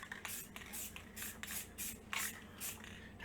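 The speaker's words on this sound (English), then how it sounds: "I'm just going to spray it lightly" A spray can mists a light coat of sealant onto a one-part mold in short repeated bursts, each a soft close hiss separated by brief pauses.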